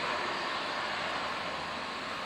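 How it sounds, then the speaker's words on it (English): Airplane taking off from an airport in Alaska, a broad steady engine roar filling the scene, loud and unbroken with no voices. "Airplanes just taking off out of here all the time."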